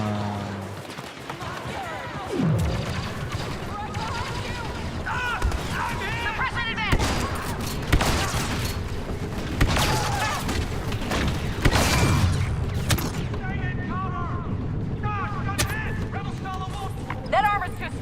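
Blaster fire and explosions in a sci-fi battle: dense overlapping volleys of zaps and booms over a steady roar of combat, with voices speaking in between.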